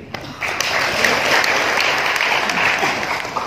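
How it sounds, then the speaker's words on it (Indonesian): Audience applause at an Indonesian industrial-relations talk, a burst of clapping that rises quickly and holds steady and fairly loud for a few seconds, with faint crowd murmur underneath. "Tepuk tangan buat HRD."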